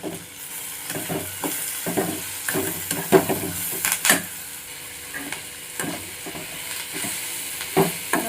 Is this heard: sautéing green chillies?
yes